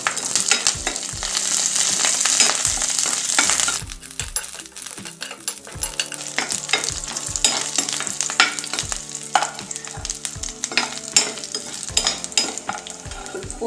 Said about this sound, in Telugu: ఆయిల్ వేడెక్కిన తర్వాత 2 వెల్లుల్లి రెబ్బలు పోపులు వేసుకుంటున్నామండి.